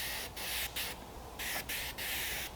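Red oxide primer spray-painted straight from an aerosol can, a close hissing spray in several short bursts with brief gaps between them.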